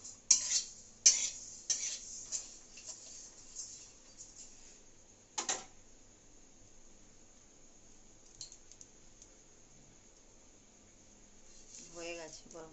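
Spice paste is reheated in a pan on a gas stove, with quiet scraping and clinking of a utensil against the pan in a few sharp taps, then faint stirring and a voice near the end.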